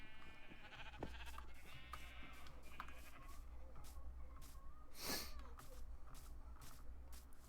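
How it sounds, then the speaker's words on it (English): Sheep in Minecraft bleat several times, fairly faint, over a low steady background hum, with soft clicks and small sounds scattered around the calls. "So many sheep."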